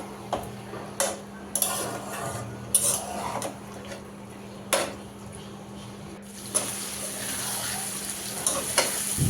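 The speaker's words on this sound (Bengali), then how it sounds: "এখন ভুঁড়িটা আমি কিছুক্ষণ কষিয়ে নেব, এরপর প্রেশার কুকারে দিয়ে দিব।" Beef tripe sautéing and being stirred in a pan, with a steady close sizzle and a few louder scrapes and clanks of the utensil against the pan, no talking.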